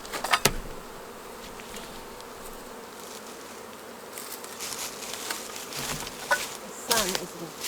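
Feral honeybees buzz around a hollow, a dense, close swarm drone holding steady throughout, with sharp individual bees zipping past the listener and occasional soft knocks and rustles.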